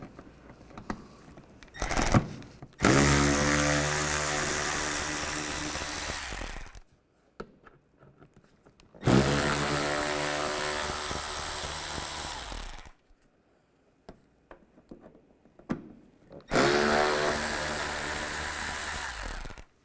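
A power driver with a T20 socket removes side panel screws on a 2011-2015 Chevrolet Cruze. Three long, loud whirring bursts of several seconds each are separated by quiet gaps with faint handling noises.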